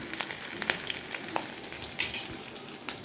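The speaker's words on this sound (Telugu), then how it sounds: "చూడండి సింపుల్గా ఎగ్ ఫ్రై ఎలా చేస్తున్నాను" An egg fries in a pan with a steady close sizzle and crackle, broken by a few sharp pops and spatters, with no voices.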